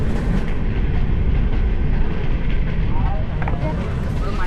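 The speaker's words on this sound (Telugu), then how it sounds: "ఈ ట్రైన్ పేరు వచ్చేసి రప్తి సాగర్ ఎక్స్ప్రెస్" The Raptisagar Express rolls along the tracks in a sleeper coach, a dense, steady rumble of wheels and carriage noise filling the clip at close range.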